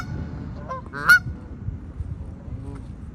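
Geese honking outdoors in Salford, England: a few distinct honks, one louder call standing out over a low, steady outdoor background rumble.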